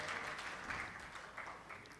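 An audience at a mushaira poetry gathering claps together, a steady rush of applause from a crowd that holds for a couple of seconds and fades slightly, heard alone.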